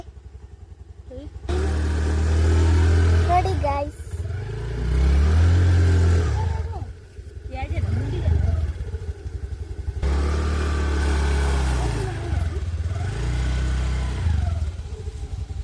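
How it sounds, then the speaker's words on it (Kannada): Scooter engine running as it is ridden, a loud steady motor drone that dips and rises with throttle changes, close by, with a person speaking briefly. "ಸ್ಕೂಟಿ ಬಿಡ್ತಿದ್ದಾರೆ"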